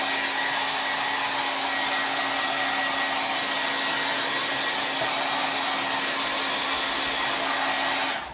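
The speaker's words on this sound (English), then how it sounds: "Now I need to blow dry this, so it's about to get loud." A hair dryer blows steadily on a wooden craft piece, a loud, close, unbroken whooshing roar with a faint motor whine that runs for about eight seconds before cutting off at the end.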